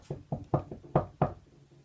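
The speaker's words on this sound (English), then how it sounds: "She knocked on the door." Knuckles rap on a cottage door in a short series of about five or six close knocks, irregularly spaced, fading into quieter taps at the end, with no speech.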